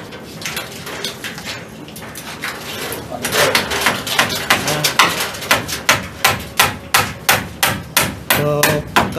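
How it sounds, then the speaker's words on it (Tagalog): Construction workers hammer on wooden roof supports being installed for sheet-metal roofing on a second-floor rooftop, a loud, steady series of sharp, close blows at a regular rhythm that grows more even and forceful partway through. "kasalukuyang ina-install nila yung mga kahoy na pagpapatungan ng yero para pag nagbubong ay naka-ready na"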